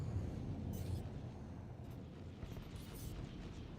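Missile impacts exploding in the space game Star Citizen, heard as a steady low rumbling roar of blasts with a few brighter bursts, fairly loud and continuous with no talk.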